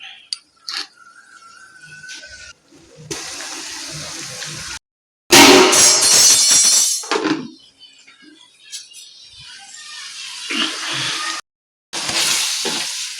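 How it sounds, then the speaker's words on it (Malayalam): Ginger, garlic and green chili paste goes into a hot pan and sizzles loudly in bursts, broken by brief silent gaps, with scraping and stirring noises between the hisses. "അപ്പോൾ നമുക്കിനി ഇഞ്ചിയും വെളുത്തുള്ളി പേസ്റ്റ് ഇട്ട് കൊടുക്കാം."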